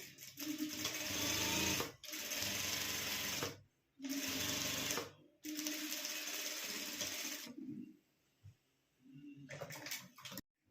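Sewing machine stitching the edge of a kurti jacket made from a saree pallu, running in several steady whirring bursts separated by short pauses, close and clear with no talk.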